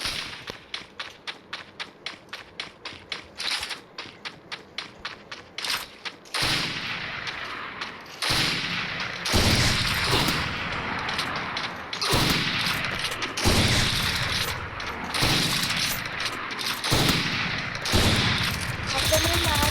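Gunfire in the video game Free Fire: a fast, regular string of sharp shots, then heavier, louder bursts of automatic fire with short gaps between them.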